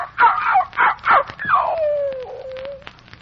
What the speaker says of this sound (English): wouldn't it be good to hear that little dog bark again?